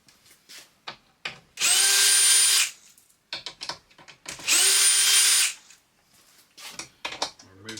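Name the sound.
power drill removing screws from plywood crate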